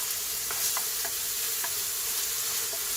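A wooden spoon stirs couscous in a pan, soft rhythmic scraping taps about twice a second over a steady sizzling hiss, no voices.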